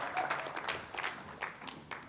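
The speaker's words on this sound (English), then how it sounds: "Give a round of applause." At an executive summit, an audience gives a short round of applause. The clapping is faint and distant, with a few louder claps standing out from the soft wash, and no talking is heard.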